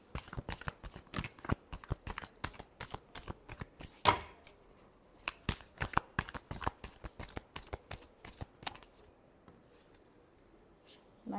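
Tarot cards shuffled close up by hand in a quiet room, a fast run of crisp riffling slaps and soft card-on-card brushes that pauses briefly now and then before starting again.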